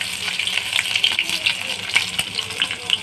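Garlic sizzling in hot oil in a kadhai just after mustard seeds have popped, giving a steady close frying hiss with small crackles and occasional stirring.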